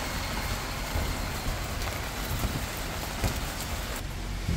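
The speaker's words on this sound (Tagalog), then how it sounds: "Ang lakas ng ulan" Heavy rain pours down in a dense, unbroken roar, loud and close, with scattered louder drops spattering on surfaces.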